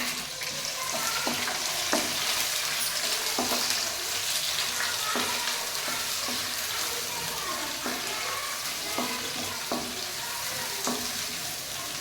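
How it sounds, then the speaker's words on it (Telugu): Chicken pieces deep frying in hot oil in a pan, a loud continuous sizzle close up with occasional scraping taps of stirring throughout. "డీప్ ఫ్రై అయ్యేంతలోపు మనం వేయించుకోవాలి"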